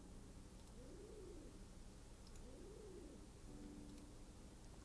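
Pigeon cooing in a video game, two soft rolling coos in sequence followed by a short steady tone, heard faintly against a quiet background with no talking.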